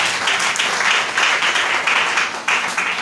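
A church congregation applauds and claps together during a sermon, a loud, dense burst of clapping close by with pulsing rhythm and no voices over it.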